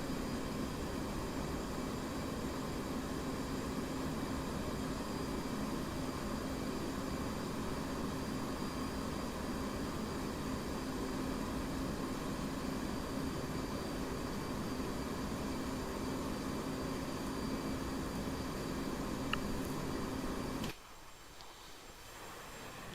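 Steady, broadband roar of a CF-188 Hornet jet engine in the DCS flight simulator, a constant loud hum and hiss that holds unchanged for about twenty seconds before dropping abruptly to a quieter drone.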